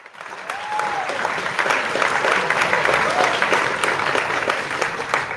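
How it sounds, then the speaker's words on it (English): An audience applauds for a guest in a late-night boxing talk show, with steady, dense clapping that swells and holds for several seconds and a few voices mixed in. "Everybody, round of applause for Danny Fantasma."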